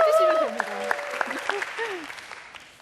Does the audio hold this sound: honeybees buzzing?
no